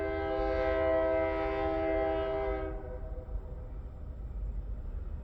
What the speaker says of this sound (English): you ought to count on these trains. They just go by forever